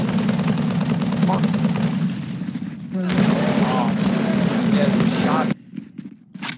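Gunfire in a Halo-based mod game strikes the player: dense, rapid automatic shots crackle continuously and loud for several seconds, then break off into scattered bursts, with game sounds underneath.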